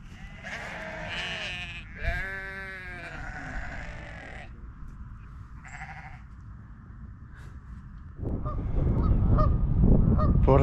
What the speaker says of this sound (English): Even the Canadian geese are saying good morning